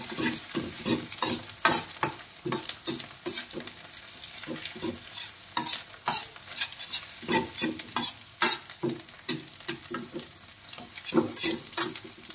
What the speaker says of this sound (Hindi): लहसुन थोड़ा रंग आ जाए